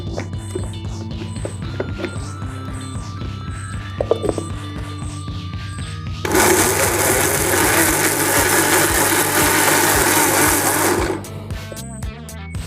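A mixer grinder whirs into a loud, dense roar while blending pineapple into a paste. The motor runs hard for about five seconds, preceded by quieter clinking and handling noises, then cuts off abruptly.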